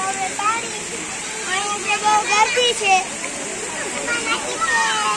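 Water sprays steadily from an elephant fountain at a gurukul, a constant hissing rush up close, with children's and adults' voices talking over it.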